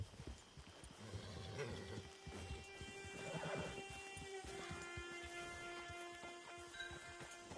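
Horse in Red Dead Redemption 2 game, a whinny and snorting with clip-clop hooves at moderate volume, the neigh rising mid-clip over continuous ambient background.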